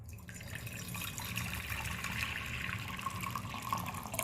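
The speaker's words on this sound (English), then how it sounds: "now I'm gonna pour it into this container" Hot water poured steadily from a heated vessel into a container, a continuous splashing, gurgling stream lasting about four seconds at close range with no voices.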